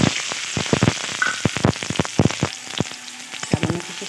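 Dry red chili, slit green chili and crushed garlic frying in mustard oil in a wok, loud close crackling and spattering with rapid irregular pops over a steady sizzle, no voices.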